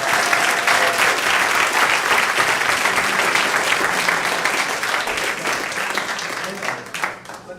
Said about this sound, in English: give it up, another round of applause for the committee